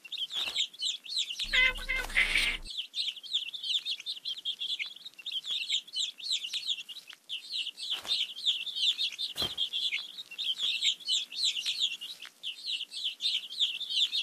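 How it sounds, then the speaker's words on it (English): Hungry baby birds in a children's alphabet learning game chirp in a steady, busy stream of high, bright tweets throughout, with a short burst of another game sound near the start. "Let's feed the hungry baby birds with some seeds."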